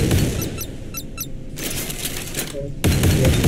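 Warship cannon in the naval combat game Modern Warships firing at incoming planes, heard as a loud run of rapid sharp bursts with clattering shots and a dense, rumbling blast texture throughout.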